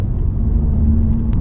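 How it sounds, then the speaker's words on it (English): An Abarth 595 rolls slowly over a speed bump, a close, low rumble of engine and road noise lasting a brief moment. "This is a horrible speed bump, this one."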